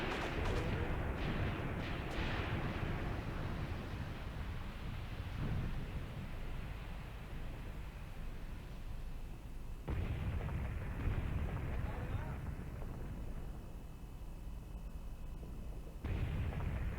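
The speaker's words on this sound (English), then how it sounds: "And they're firing, so the actual battle is going on" Gunfire and artillery crash through a battle in the war game Graviteam Tactics: heavy booms and rumbling blasts from varied distances, with sharp louder explosions near the start and later, and no speech.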